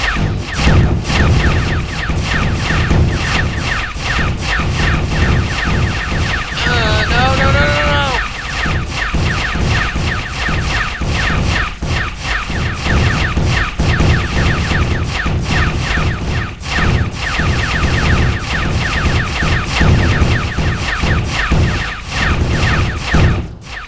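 Dense, continuous bursts of anti-matter cannon fire and booms in the game StarMade pound away without pause, with a brief electronic chirp partway through.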